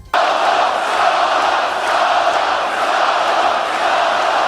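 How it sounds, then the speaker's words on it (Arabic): Wrestling arena crowd chanting for Solo Sikoa, a loud, sustained roar of many voices filling the whole span with steady, dense energy and no clear pauses. "لاول مره اشوف الجماهير بتهتف لسولو"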